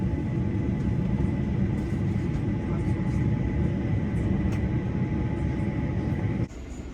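Steady broadband rumble of a train at East Croydon railway station, a continuous loud roar with a low hum throughout, cutting down sharply near the end.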